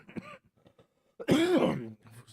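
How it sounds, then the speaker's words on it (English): A single rough, harsh cough close to the mic, preceded by a few faint throaty sounds. "I still have a pretty bad cough"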